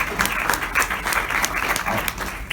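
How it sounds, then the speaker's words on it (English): Audience at a hypnotist show bursts into steady, dense applause, a close wash of clapping that holds evenly through the whole moment with a faint crowd murmur beneath. "Big round of applause for this young man right here."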